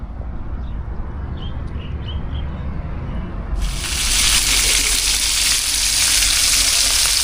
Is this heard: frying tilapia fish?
yes